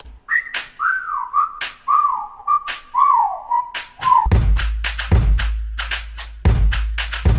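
A melodic whistled phrase of sliding, wavering notes runs alone over sparse percussion in a DJ track edit, then heavy bass-driven drum hits kick in and continue loudly.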